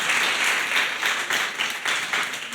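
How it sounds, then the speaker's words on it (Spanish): Applause in a church during a worship service, honoring the King: a congregation clapping steadily in irregular bursts, moderately loud and filling the room, with no talk. "Si ese aplauso es para el Rey, déselo con todo su corazón"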